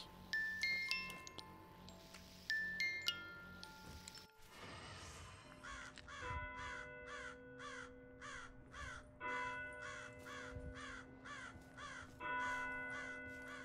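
A crow caws in the Black Ops 3 custom zombies map Bungalow. Harsh calls repeat in a steady rhythm over sustained game tones and chimes. The start is busier with bright ringing effects.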